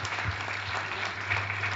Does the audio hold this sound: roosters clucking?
no